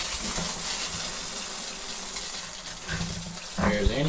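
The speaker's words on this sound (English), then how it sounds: "Turning on a water pump. Now it should pee water, or antifreeze preferably." A small boat's water pump running and gushing antifreeze out during winterizing, a continuous splashing water flow with a sharper surge near the end.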